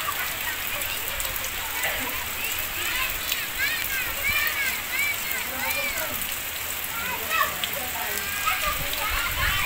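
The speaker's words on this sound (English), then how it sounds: "So it's been raining here." Steady rain falls at an outdoor resort with pools and rental cottages, a continuous broadband hiss of drops on surfaces, with chirping birds or calls sprinkled through and voices talking at times.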